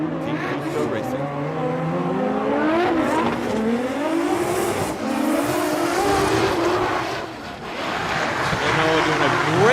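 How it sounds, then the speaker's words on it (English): Drift race cars running a tandem battle at Ebisu Circuit in Fukushima, engines wailing continuously and loud throughout, with a commentator talking over the roar. "In the chase, we have car number 771, Hiroya Minoa with Team Cusco Racing."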